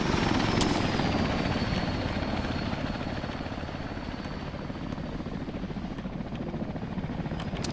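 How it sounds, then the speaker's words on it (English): A helicopter in the video game Arma 3 comes in, its rotor thudding steadily and loudly for several seconds, a constant whirring drone that stays close and heavy throughout. "Helicopter coming in here."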